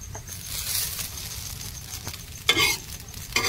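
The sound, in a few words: chowmein stir-frying in hot oil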